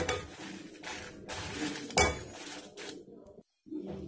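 Sambar powder spices being dry roasted in a pan without oil, with a metal spoon scraping and clinking against the pan in short bursts and one sharp knock. Close, with a brief silent gap near the end.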